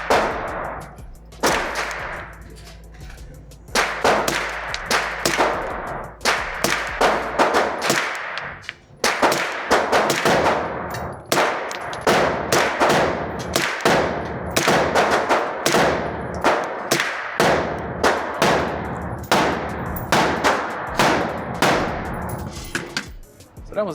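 A 9mm CMMG pistol-caliber carbine fires at an outdoor range in close, sharp shots, singly and in quick strings, with metallic rings from steel targets between reports.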